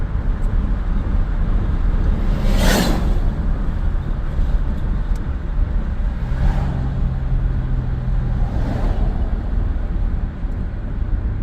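A 1996 Chevrolet S10 pickup with a 4.3 V6 and Holley Sniper fuel injection cruising on the highway: steady engine drone and road roar throughout, with a few passing whooshes.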